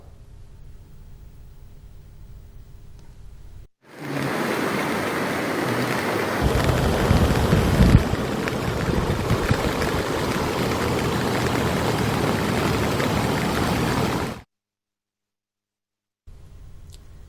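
Heavy downpour in Hyderabad, a loud steady roar of rain with rumbling low-end wash, starting abruptly after a quiet stretch and cutting off just as sharply about ten seconds later.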